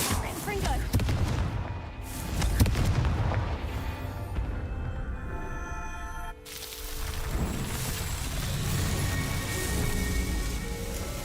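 In Hogwarts Legacy, the Confringo blasting spell erupts in heavy, rumbling explosions, several booming blasts tumbling over one another amid crackling debris, with a lull before another burst.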